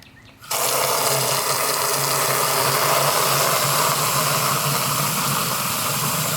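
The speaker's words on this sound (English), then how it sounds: "I just stick the 2 packets down in there like that, and I fill it up with water." Water rushes steadily into a sprayer container holding two insecticide packets, a loud continuous hiss and gush starting abruptly after a brief quiet moment and running without pause.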